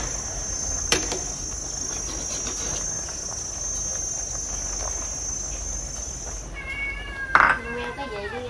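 A cat meows near the cooking of garlic butter shrimp, with one clear, fairly loud meow late in the clip. A steady high insect-like whine runs underneath, and a voice is heard faintly.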